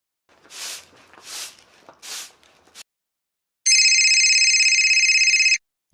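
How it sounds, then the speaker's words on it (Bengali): Three soft shuffling, brushing sounds, then a pause, followed by a loud, close electronic phone ringtone warbling rapidly for about two seconds. "কে ফোন করছে দেখি তো"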